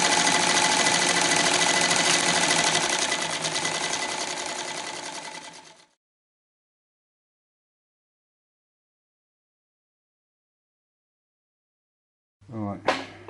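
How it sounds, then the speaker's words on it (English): A Cowboy CB246 small arm cylinder sewing machine stitches leather with a rapid, steady mechanical chatter for about six seconds, then stops into silence before a short burst restarts near the end. "this is some early on trials with the new needle plate that I've just made for our new Cowboy CB246 small arm cylinder machine"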